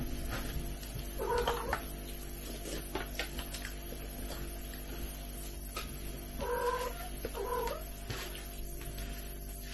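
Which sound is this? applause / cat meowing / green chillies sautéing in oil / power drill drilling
cat meowing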